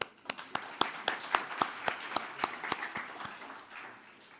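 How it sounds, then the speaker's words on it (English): Scattered, fairly faint hand clapping from an audience at an awards gala, a dozen or so sharp claps landing in a loose rhythm before fading out. "Let's give them all a clap."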